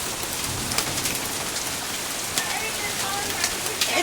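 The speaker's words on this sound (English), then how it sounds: "Oh no, there's still hail back here." Hail patters steadily on a car during a Florida hailstorm, a dense continuous clatter of small ice pellets with occasional sharper, louder impacts standing out against the constant rattle.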